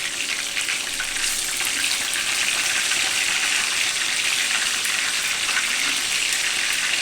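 Pieces of rohu fish fry crisp in hot oil, giving a steady, close hiss and crackle that runs unbroken throughout.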